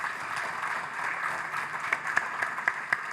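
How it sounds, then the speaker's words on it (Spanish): Audience applause for a speaker at a monetary policy report presentation, a steady moderate patter with a few sharper individual claps standing out toward the end. "un gran aplauso a nuestro excelente expositor"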